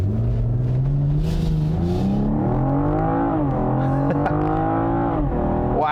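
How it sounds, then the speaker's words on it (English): A 2021 BMW M440i xDrive accelerating hard, its engine note climbing steadily through the revs with a brief dip at a gear change, loud and continuous from inside the car. "Wow, plenty of acceleration."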